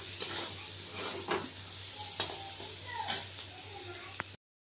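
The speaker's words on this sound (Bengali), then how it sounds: "আগে মশলাটা কষিয়ে রেডি করি" Spice paste fries in a pan with a steady broad sizzle, and several spoon scrapes and knocks are spread through the stirring. The frying is close and moderately loud, with no voices, and it cuts off abruptly at the end.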